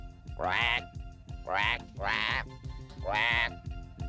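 Three loud, drawn-out croaks spaced about a second apart, each a raspy burst, sounding close, from a voice imitating a frog in a Spanish-language cartoon.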